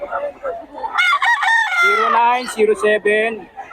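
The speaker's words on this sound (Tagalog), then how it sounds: "maraming manok lagi yan" Several roosters crow in overlapping calls at a busy gamefowl market in Bocaue, loud and close, with bursts of clucking between the drawn-out cries.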